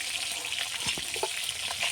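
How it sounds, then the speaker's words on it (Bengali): Koi fish frying in hot oil for a fish curry, giving a steady close sizzle with a few brief spatters across two seconds and no talk. "মাছগুলা সুন্দর করে উল্টে ভেজে নিয়েছি, বাটিতে তুলে নিচ্ছি।"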